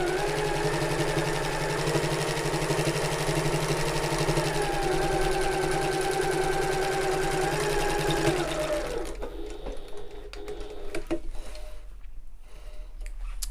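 A sewing machine stitches a tote bag at a short stitch length, running steadily and loud for about nine seconds before stopping, then a few faint clicks and handling sounds follow.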